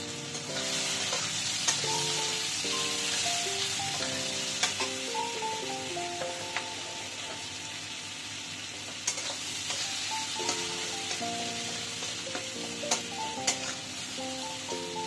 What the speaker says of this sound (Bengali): পেঁয়াজটা ভাজা ভাজা হয়ে গেছে একটু।